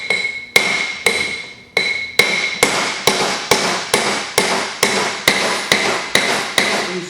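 A hammer drives a wheel bearing into its hub with a long run of loud, ringing metal strikes, slow at first and then settling into a steady, quick rhythm of about two blows per second.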